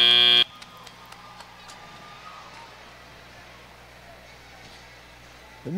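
An end-of-match buzzer sounds loud and sustained for about half a second at a robotics competition, then cuts off, leaving a quiet arena murmur.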